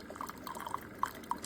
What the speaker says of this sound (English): this is my second or third time trying just brewing, just getting hot water